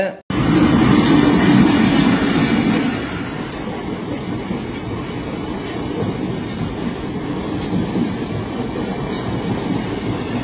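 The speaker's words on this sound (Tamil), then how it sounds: "திருநள்ளாறுல இருந்து காரைக்கால் ரயில்வே ஸ்டேஷனுக்கு எம்டியா கொண்டு போற கம்பன் எக்ஸ்பிரஸோட ரேக்கோட வீடியோ தான் நீங்க பார்க்க போறீங்க" An empty Kamban Express passenger rake rolls toward Karaikal station, a loud steady rumble of wheels on rails with a heavier roar at the start that settles into continuous rolling clatter.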